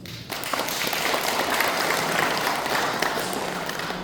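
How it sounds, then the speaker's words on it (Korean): An audience at a Liberation Day commemoration ceremony bursts into applause, a dense, sustained clapping from a large crowd lasting the whole few seconds. "박수 한번 쳐주시기 바랍니다"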